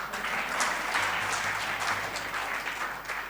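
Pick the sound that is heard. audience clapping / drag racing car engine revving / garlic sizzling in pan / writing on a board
audience clapping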